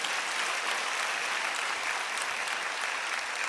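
A congregation applauds at a New Year's Eve worship service, a steady wash of many hands clapping at moderate distance, sustained evenly throughout with no voices.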